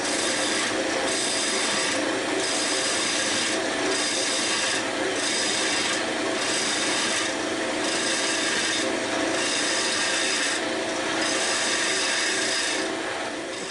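On a wood lathe, a tool scrapes and cuts a tenon inside a wooden bowl. A continuous raspy cutting noise pulses in a steady, regular rhythm as the piece spins, close and loud throughout, with no talking.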